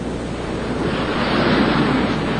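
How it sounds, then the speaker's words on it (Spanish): Large storm waves, up to three to five metres high, crash against a Dutch flood barrier in force 11 wind, a continuous loud roar of surf and wind noise that swells slightly midway, with no talk. "Cuando un viento fuerza 11 se posa sobre la barrera con sus grandes olas de hasta 3 o 4 e incluso 5 metros, tiene un enorme poder"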